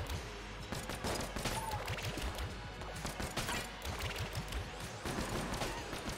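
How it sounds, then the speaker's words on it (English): A charged turbo gun fires in the roguelike shooter Enter the Gungeon. Rapid gunfire rattles in dense, continuous bursts over several seconds, loud and busy, with sharp clattering impacts throughout. "Let's at least partially charge up the turbo gun."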